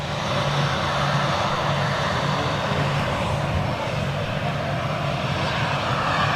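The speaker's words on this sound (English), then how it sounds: "Callum, IL-76 flying over Rochdale now." An Ilyushin IL-76 jet aircraft flying over Rochdale, a loud continuous roaring rumble of engines held steady throughout with no voices.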